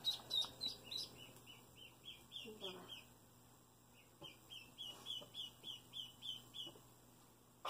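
Baby ducklings peep in rapid, repeated high chirps close by, a rhythmic series of short calls with brief quieter gaps and faint room sound.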